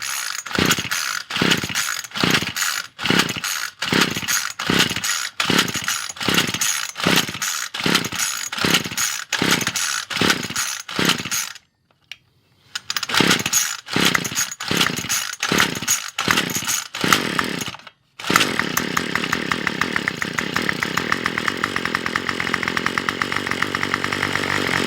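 A weed eater's small engine is started by pull cord: a long series of rhythmic, rasping pull strokes, a couple of short pauses, then the engine fires and settles into a loud, continuous buzzing idle.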